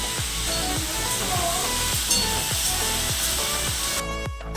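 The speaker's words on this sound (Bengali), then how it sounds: "আমি আগে ভাজাটা চাপিয়ে দিলাম" Potatoes and onion fry in a pan on a gas stove, giving a steady close sizzle with a regular pattern of soft low knocks and a few stirring scrapes, and no voices over it.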